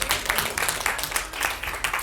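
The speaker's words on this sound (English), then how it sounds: "Thank you for the applause" An audience at a forum panel gives dense, steady applause, loud and close, with no words spoken.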